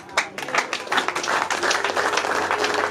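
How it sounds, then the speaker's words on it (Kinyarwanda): A crowd claps in a dense, steady round of applause, many hands patting together at close range. "Amashyi menshi nanone n'impundu kuri Pasiteri Rukundo."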